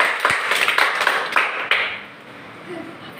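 A short burst of clapping in a children's story for pre-primary classes, about seven quick, uneven claps for a prize-giving that stop abruptly and fade into quiet.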